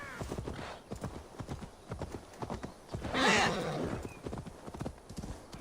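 Horse hooves clip-clop in Assassin's Creed Valhalla, a steady trotting rhythm throughout with a loud whinny partway through, while characters talk over the riding.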